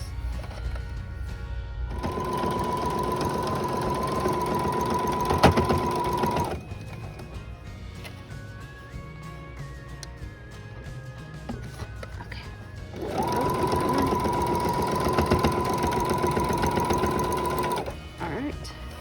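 A sewing machine stitches a quilt block in two steady bursts of loud, rapid whirring, with a quieter pause between them in which faint mechanical clicks and hums are heard.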